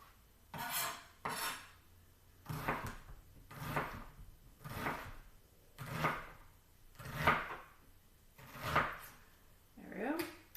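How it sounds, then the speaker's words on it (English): A kitchen knife slices through onion halves on a cutting board so they fall into diced pieces, giving a steady run of soft, evenly spaced cuts about once a second, close up and fairly quiet, with no speech. "for each of these halves, I'm going to now just slice, and as I slice, it will now fall into nice little diced pieces"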